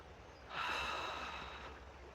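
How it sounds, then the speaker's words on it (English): One slow, deep breath drawn in through the nose and then let out, soft and close, with nothing else heard in the quiet. "Deep breath."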